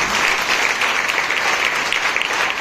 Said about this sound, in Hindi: ऐसे परमेश्वर के लिए जोर से ताली बनती है कि नहीं बनती?